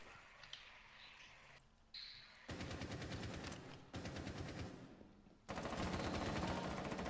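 Rapid gunfire in Rainbow Six Siege crackles in several sustained bursts of fast repeated shots, fairly faint and close, broken by brief pauses.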